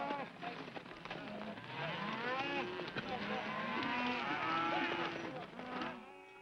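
A herd of cattle on the Oklahoma plains lows and moos in overlapping calls, many animals bellowing at once in a dense, continuous chorus at moderate distance.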